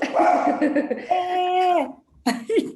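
Pet dogs indoors vocalizing loudly nearby, with sustained whining, howl-like tones in a few bursts broken by a short pause.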